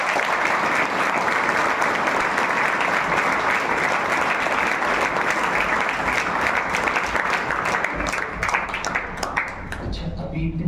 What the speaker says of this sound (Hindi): अभी इतनी अच्छी ताली बजी